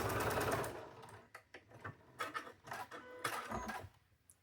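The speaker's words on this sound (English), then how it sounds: "Just kind of sew across the diagonal." A sewing machine stitches diagonally across quilting fabric pieces for a chicken-pattern quilt. It makes a close, rapid mechanical whirring in short bursts with brief pauses between runs.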